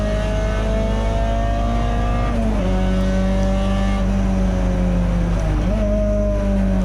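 A Peugeot 206 GTI race car accelerates hard on a wet Donington Park track during a close saloon race, its engine note climbing steadily, dropping at two gear changes and rising again, loud and continuous from inside the car, with no talk.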